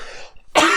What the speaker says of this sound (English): And I cough while I get it right.